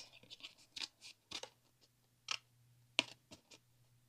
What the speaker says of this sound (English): Again, all I do is cut an X.